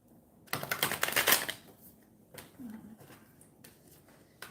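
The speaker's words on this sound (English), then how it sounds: "what's going on with this shuffle today? It's like I can't get these cards." Tarot cards are riffled in a quick, crisp burst, followed by softer scattered clicks and rustles of handling.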